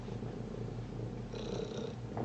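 A contented cat purrs close by at home, a low steady rumbling drone lasting throughout with no talk over it.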